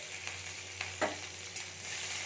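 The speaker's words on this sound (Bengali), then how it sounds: "কাঁচা লঙ্কাটা একটু ভাজা ভাজা হয়ে এসেছে" Chopped green chillies and cumin seeds frying in hot oil, a close, soft sizzle broken by several sharp spatula scrapes and clicks against the pan.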